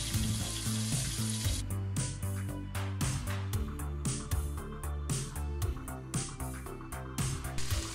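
KFC-style chicken deep-fries in hot oil with a loud, continuous bubbling sizzle and frequent crackling bursts, heard up close with no talking.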